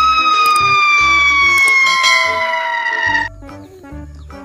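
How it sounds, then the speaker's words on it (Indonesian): A red toy fire engine's electronic siren wails loudly and steadily with falling sweeping tones, then shifts to a softer warbling pattern near the end, with no talk over it. "Mobil pemadam kebakaran."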